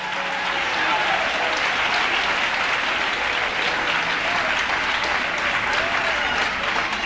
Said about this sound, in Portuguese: Pode bater palmas e dar glória?